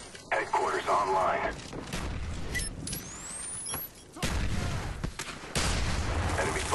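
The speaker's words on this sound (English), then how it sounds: "Have some Tricky Dicky bullets!" Automatic gunfire and explosive booms from the Call of Duty Black Ops video game, loud bursts of shots and heavy thuds filling the whole stretch, with a voice talking over the battle.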